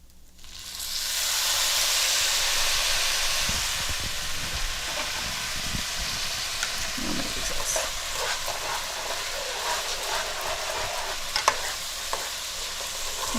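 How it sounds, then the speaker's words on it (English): A quarter cup of white wine poured onto rice toasting in oil and butter in a pan, erupting into a loud, steady sizzle and hiss that holds throughout with faint stirring clicks, no voices. "now I'm going to add in the wine"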